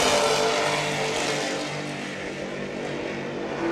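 The MCON 388 Skater, a racing powerboat with twin 750 Sterling engines, runs hard at the Key West world championships. It gives a loud, steady high-revving roar, close and unbroken, with no voices.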